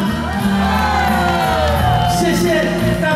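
A large concert crowd at an outdoor temple performance screams, whoops and cheers continuously and loudly, a dense wall of shouting voices that fills the whole moment.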